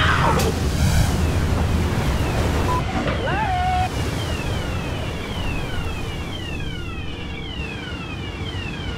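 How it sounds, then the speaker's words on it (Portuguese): Big ocean wave crashing over a crab fishing boat in a strong storm at sea, a loud broadband roar and rush of water with wind noise throughout, and shouting voices briefly on deck. "Foi a maior onda que já bateu na casa do Leme"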